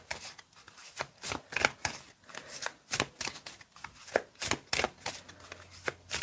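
Tarot cards being shuffled by hand, a steady run of crisp riffling slaps and soft paper flutters repeating close up with no talk.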